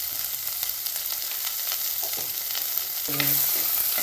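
Small shallot-type onions frying in a pan for a drumstick theeyal, giving a steady, close crackling sizzle, with a few spoon scrapes from stirring near the end and no voices.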